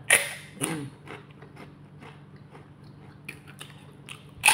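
Crunchy chicharon baboy pork cracklings eaten with vinegar are bitten and chewed up close, with sharp crunches at the start and end and quieter steady chewing between.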